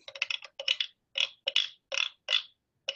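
A wooden frog-shaped guiro is scraped in quick ratcheting strokes, a steady series of short rasping bursts with brief pauses between them, close and fairly soft.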